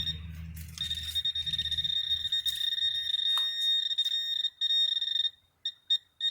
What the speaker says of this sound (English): the detector's going berserk